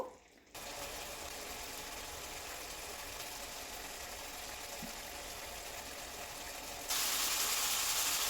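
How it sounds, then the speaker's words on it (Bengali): Shol (snakehead) fish frying in oil in a pan, cooked down before mustard greens go in, gives a steady, close hiss. The hiss runs unbroken and grows louder near the end. "মাছটা একটু কষে গেলেই তারপরে আমি শাকগুলোকে দিয়ে দিব"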